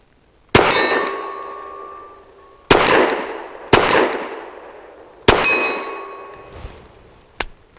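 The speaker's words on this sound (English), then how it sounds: "A-zone steel at 25 yards on the first shot" Four loud gunshots from a Saricam S19 pistol, each followed by a ringing clang of an A-zone steel target 25 yards away, spaced irregularly with long metallic decays and a faint final tick.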